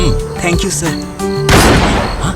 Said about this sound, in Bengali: এটা শিওর গুলির শব্দ, আর গুলি বিল্ডিংয়েই চলেছে